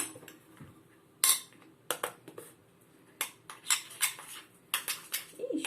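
A spoon stirs sourdough starter in a small dish, giving scattered close clinks and scrapes against the dish in an irregular rhythm, with quiet pauses between bursts.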